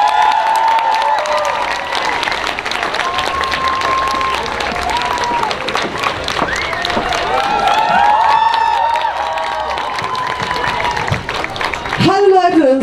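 Large crowd at a Fridays for Future rally in Berlin applauding and cheering loudly for a singer, sustained clapping with whoops and shouts throughout, swelling near the end.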